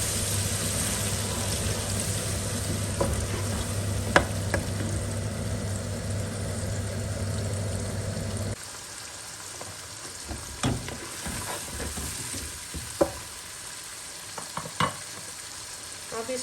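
Tomato paste frying with garlic and ginger in a home kitchen pan for chicken haleem, a steady close sizzle with occasional stirring clinks; the hiss drops noticeably partway through as the paste goes in, leaving quieter crackling with scattered utensil taps.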